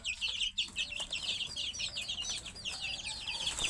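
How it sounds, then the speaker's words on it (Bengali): Desi chickens cluck in a busy, overlapping chorus of short calls while being released and fed, close and steady throughout with no talk. "তো আমি এখন মুরগিটা ছেড়ে দিয়ে মুরগিগুলোকে খাওয়াই দেবো"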